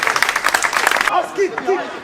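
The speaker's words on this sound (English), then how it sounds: "give us 10 Hag a clap" Audience clapping at a football supporters' club presentation night, a dense burst of claps lasting about a second before it cuts out and a voice takes over.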